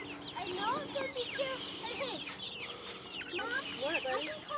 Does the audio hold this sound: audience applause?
no